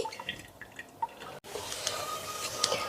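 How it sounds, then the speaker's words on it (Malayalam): Stored water poured into a washed glass fish bowl, heard as close trickling and dripping with a brief gap midway, then a steadier splashing flow. "ഈ കഴുകി വെച്ചേക്കുന്ന ബൗളിലേക്ക് നമ്മൾ ഇന്നലെ പിടിച്ചു വെച്ച വെള്ളം ഒഴിച്ചു കൊടുക്കുവാണേ"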